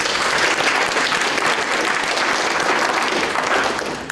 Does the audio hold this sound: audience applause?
yes